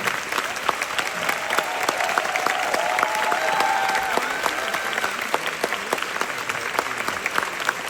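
Sustained applause from a theatre audience at the final curtain call of a musical, steady dense clapping throughout with a few brighter claps standing out.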